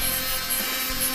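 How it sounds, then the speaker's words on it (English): A 3mm rod is cut into small pieces for a toy, producing a steady, close rasping cut that runs evenly from start to finish with no pauses or voices. "I then cut down the 3mm rod that I have into some smaller bits"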